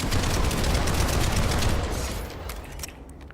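Sustained automatic fire from the TR MAX weapon in a first-person shooter, a dense loud rattle of rapid shots for about two seconds, then tapering into scattered fainter bursts and echoing tails.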